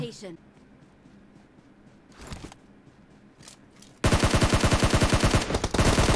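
Enemy gunfire in PUBG Mobile: a sudden loud, rapid automatic burst that starts partway through and keeps going to the end, after a quieter stretch with a few scattered shots.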